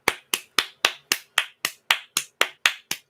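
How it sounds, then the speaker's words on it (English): Twelve slow, evenly spaced single claps in a steady rhythm, close and fairly quiet, each a sharp crisp hit with a short decay, given as a mock golf clap with no talking. "There's a golf clap for you right there."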